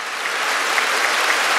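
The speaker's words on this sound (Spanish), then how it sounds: "Claro que sí, fuerte el aplauso" An audience at a public event applauds, with loud, dense, steady clapping sustained for a short burst.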